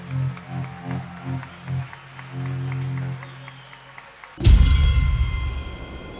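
A large audience at an outdoor summer rock-opera concert with a chamber orchestra bursts into loud, sustained applause and cheering, after a few seconds of quieter music beforehand.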